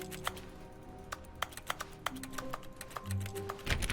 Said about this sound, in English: How come when I left click, it makes like a keyboard noise?